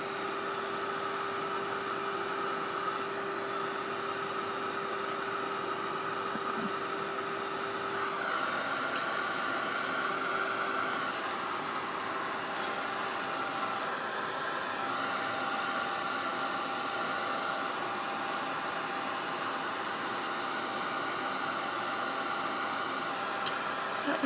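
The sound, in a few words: heat tool blowing hot air on paper bag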